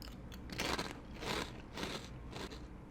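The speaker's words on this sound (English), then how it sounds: "it just makes for a little bit of a nicer crunch" Close crunching of Bugles corn chips being chewed, several distinct crisp bites in a slow rhythm, quiet and alone.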